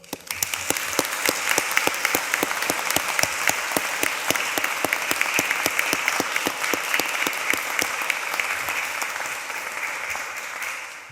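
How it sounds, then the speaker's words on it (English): Graduates at a ceremony in a Greenwich chapel receive sustained applause from a large audience, a dense, loud wash of clapping that holds steady for several seconds before easing slightly. "I think that you all deserve a big round of applause"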